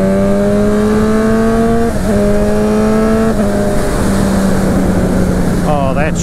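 Motorcycle engine on a test ride holding a steady drone, then shifting gears and revving higher toward the end, with someone talking over it.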